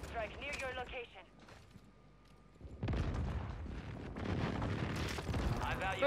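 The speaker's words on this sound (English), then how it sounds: "Hostile airstrike near your location." Rumbling explosions from an airstrike in Call of Duty: Warzone, a sustained heavy roar of blasts that swells in the second half, after a short synthetic warning voice and a quieter gap.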